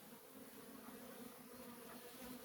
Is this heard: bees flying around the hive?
yes